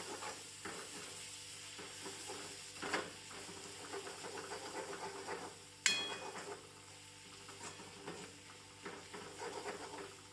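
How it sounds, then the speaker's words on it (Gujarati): Green garlic, green chili and grated ginger roast in a pan over moderate gas heat, giving a steady soft sizzle with repeated stirring scrapes and one sharp clink near the middle. "સારી રીતે આને શેકાવા દેવું પડશે."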